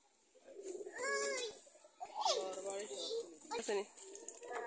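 Pigeons coo in soft, repeated throaty calls, with a voice talking over them close by.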